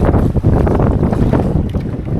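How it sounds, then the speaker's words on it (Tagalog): Loud, blustery wind buffets the microphone in continuous roaring gusts, with churning water and strong waves rushing underneath at high tide during a micro jigging fishing trip, no voices present. "Malakas yung alon. Medyo malakas pa yung hangin."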